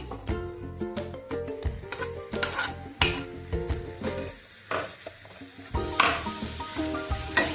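Roasted eggplant bharit mash being stirred in a hot pan, with repeated scraping and spatula knocks against metal in an uneven rhythm over a close sizzle, loud and near, no voices.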